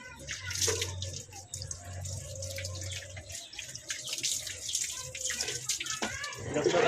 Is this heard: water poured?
yes